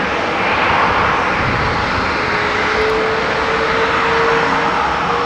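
Boeing 737-700 jet departing Amsterdam Schiphol for Munich, a loud steady engine roar holding evenly throughout, with a faint rising whine, no talking.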